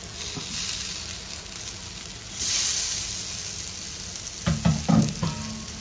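Baby corn roasting in a pan with a little oil gives a soft, steady sizzle, with a brief brighter hiss midway and a few stirring scrapes and clinks near the end.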